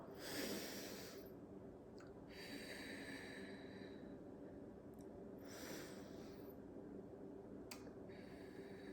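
Slow, deep breathing in through the nose and out through the mouth as a relaxation exercise, heard as close, soft airy inhales and exhales repeating several times against a quiet background.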